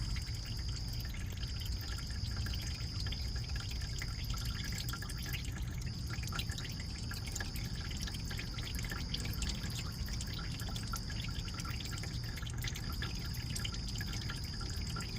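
Water dripping and trickling from a hole near a car's water pump, a steady close liquid patter with a thin continuous high whine in the background, no talking.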